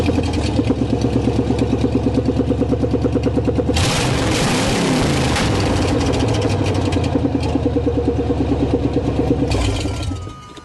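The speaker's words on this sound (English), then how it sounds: "Just going to fire up and run perfectly. She idles good and everything. It's kind of loud though." A square body Chevy truck engine idles loudly with no exhaust fitted, a rapid pulsing throb that swells into a brief rev midway, then settles back and cuts off near the end.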